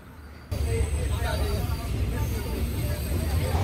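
A Sundarban Express train runs fast on the rails as it crosses the Padma Bridge. A loud, steady rumble and rattle cuts in after a short quieter start and carries on without a break.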